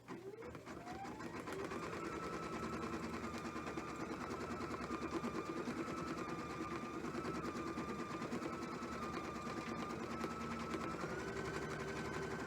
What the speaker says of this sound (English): So let's go ahead and run that tack down stitch.